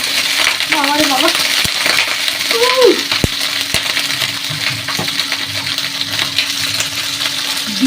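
Food frying and being stirred in a pan while cooking outdoors on a windy winter day: a steady, close hiss of sizzling with a few sharp clinks of the spatula, and brief voice-like tones early on.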